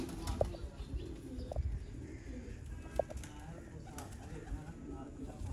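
A Kasuri pigeon pair in a loft, soft low cooing and a few brief wing flaps and taps against a murmuring background, faint and close.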